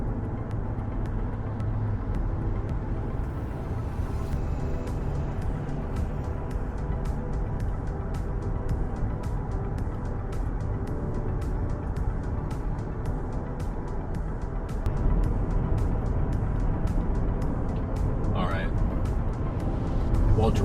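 A car rolls slowly through a residential neighborhood in Jordan, a steady low engine and road rumble heard from inside the vehicle, continuous and fairly loud throughout.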